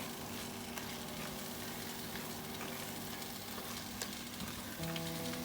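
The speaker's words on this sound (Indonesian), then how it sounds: "Ya, kita tumis dia nih sampai wangi si bumbu-bumbunya ini nih." Coriander and pepper spices sautéing in oil for lontong gulai tauco, a faint, even frying hiss throughout with a low steady hum underneath and a few light clicks, no voices.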